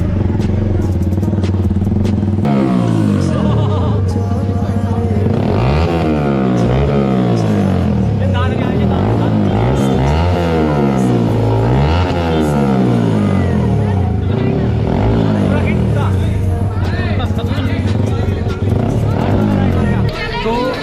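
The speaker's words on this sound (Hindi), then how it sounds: "बहुत बढ़िया साउंड आ रहा भाई का, बाइक का।" A motorcycle engine runs loud and close, its pitch rising and falling through repeated revs over a noisy crowd gathered for a celebration ride, with voices chattering throughout.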